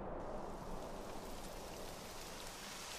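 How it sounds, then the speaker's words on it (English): Steady rain begins falling in the video game Dragon Quest XI, a soft continuous wash of patter with no pauses, moderately quiet and heard alone without any voices. "It would have to go and start raining, wouldn't it?"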